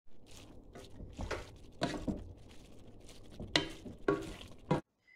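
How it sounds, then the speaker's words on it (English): A spoon stirs chili in a pot after Worcestershire sauce goes in. The scrapes and wet clinks are faint and irregular, with the pot knocking now and then, and the sound cuts off just before the end. "And then, of course, just give it a stir."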